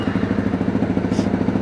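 Honda CRF250L motorcycle idling with a quiet insert fitted in the exhaust, a steady low, even putter with rapid regular pulses, close and loud, with no talking.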